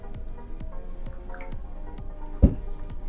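Water drips steadily, one drop about every half second, each a sharp close plink in a quiet space, with one louder splash near the end and no talking.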